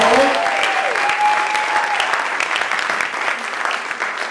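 Applause from a comedy benefit audience for the people who worked on the show: loud, sustained clapping with a brief voice at the start, gradually thinning and fading over several seconds.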